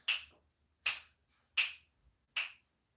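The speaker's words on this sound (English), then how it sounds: "Sometimes you like when I snap my fingers." Finger snapping in a quiet room, four crisp sharp snaps spaced under a second apart with a couple of fainter clicks between, close and alone without talk.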